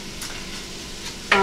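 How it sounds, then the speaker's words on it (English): Meat and onions fry in a pot for homemade vegetable soup, a steady soft sizzle and crackle with a sharper, louder burst of sizzling right at the end. "my meat is finishing cooking and the onions are getting nice and tender"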